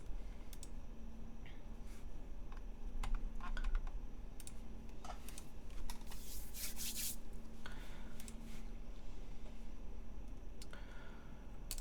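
Typing on a custom Baionlenja Synovia mechanical keyboard build fitted with GMK keycaps: irregular clicky keystrokes with a few dense bursts, close and steady over a low background hum, no speech.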